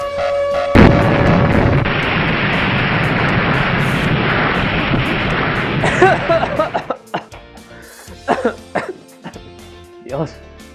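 A loud, roaring blast rumbles for about six seconds and then dies away. Afterward, a person talks and coughs in the quiet that follows.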